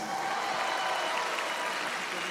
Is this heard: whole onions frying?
no